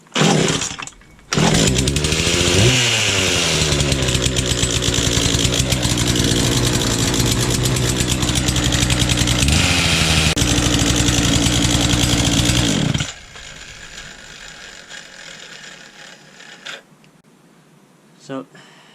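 Husqvarna chainsaw engine revving loudly and steadily for about twelve seconds, with pitch swells as the throttle rises and falls, then cutting off to a quiet background with faint handling noises.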